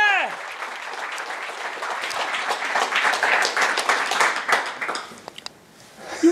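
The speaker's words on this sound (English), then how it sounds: "Let's have a round of applause for IBM!" A conference audience gives the IBM speakers a sustained round of applause, steady and fairly loud for several seconds before thinning out to a few scattered claps.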